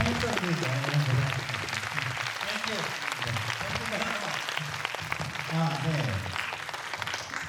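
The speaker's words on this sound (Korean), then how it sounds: "이제 시간이 박수 한번 터질까요?" Applause from the audience at a Busan International Film Festival gala screening Q&A for Frankenstein, a steady dense wash of clapping running under a voice.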